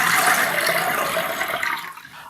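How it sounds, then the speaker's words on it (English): Freshly picked garden apples are rinsed under running water, a continuous hissing splash that fades slightly toward the end, with no voices. "so they need a good rinse in water"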